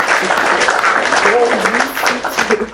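Applause rises in celebration of a 100-subscriber milestone, steady clapping that runs under a voice speaking over it, then thins toward the end.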